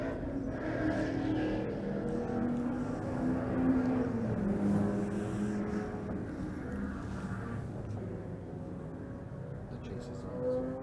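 Race cars on the track at the Taupo round of the 2017 North Island Endurance Racing Series, including a Super Tourist, produce a continuous engine drone at moderate distance beneath ongoing commentary voices.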